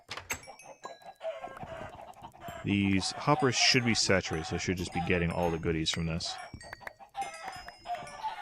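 Chickens clucking and squawking in a video game through steady talk, with a few crow-like calls mixed in.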